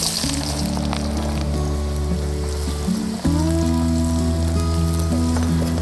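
Sambol ingredients with turmeric fry lightly in a little oil, a continuous sizzle under a steady hum and tonal background noise, with a brief dip midway.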